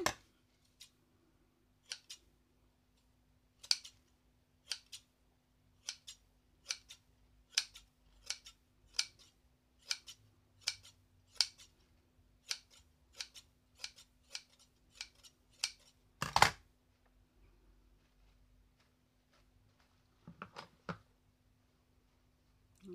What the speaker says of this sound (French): donc je vais couper. Alors avec mon ciseau à couture.